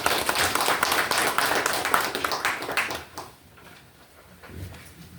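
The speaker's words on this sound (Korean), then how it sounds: "박수로 부탁드릴게요." An audience at a Korean victims' briefing session claps loudly for about three seconds, the applause then dying away to quiet room tone with a brief soft knock near the end.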